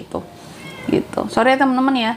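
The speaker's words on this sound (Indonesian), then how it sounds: "kalau kedengaran suara kucing itu kucingku lagi heboh sendiri" A pet cat, worked up and restless indoors, lets out a loud, drawn-out meow close to the microphone right after a person speaks Indonesian.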